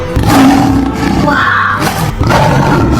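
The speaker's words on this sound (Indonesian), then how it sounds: "Suara itu bukankah laungan harimau sang Raja Rimba?" A tiger's roar used as a sound effect in a children's story about the king of the jungle, loud and sustained over about three seconds, with rumbling low tones and no talking.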